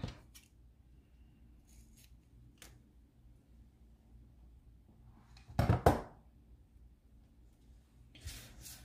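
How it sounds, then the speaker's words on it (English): Scissors trim double-sided adhesive strips while assembling cigarillo wrappers, giving a faint snip and small ticks, then one louder close rustling cut and a brief crinkle near the end in a quiet room. "I'm going to trim that off."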